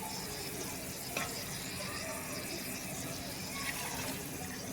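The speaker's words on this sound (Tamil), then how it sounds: "இப்போ வந்து அளவு தண்ணி ஊற்றிக்கலாம் பிரியாணி செய்கிறதுக்கு" Water poured into a pot of mutton biryani, giving a quiet, continuous sizzle and bubbling hiss across several seconds with faint clinks.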